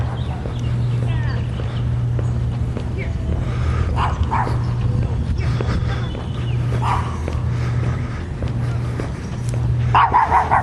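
A dog barks in a few short bursts during a morning walk across a campus, set against a steady low hum and passing talk.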